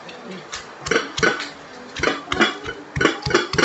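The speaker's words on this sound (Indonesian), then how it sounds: "Okey, kita tumbuk ya." A pestle pounds ground chili spice paste in a mortar for fried durian, striking in rapid, uneven bursts of close, loud thuds and clacks.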